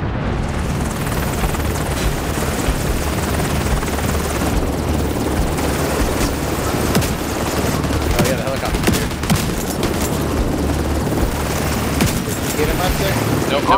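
PvP gunfire in The Division 2's Dark Zone, with rapid bursts of shots cracking over a constant loud helicopter rotor drone and game noise throughout.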